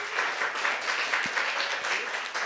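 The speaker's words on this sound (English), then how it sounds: "A little round of applause for Young Voices." Short burst of applause from a debate audience, a steady even patter of many hands clapping at moderate volume, with no voices over it.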